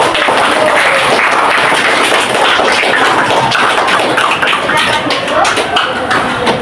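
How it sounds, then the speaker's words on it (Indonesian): Classmates clap in a high school classroom after a student presents a math answer, a dense, steady patter of many hands filling the room from start to finish, with faint voices mixed in. "berikan tepuk tangan"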